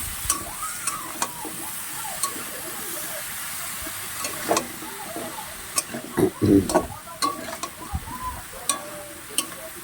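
Pumpkin, potato and Malabar spinach are stirred in a hot pan, with a steady hiss and sizzle, a steamy rush, and clanks of the spoon against metal that grow busier midway, close and loud.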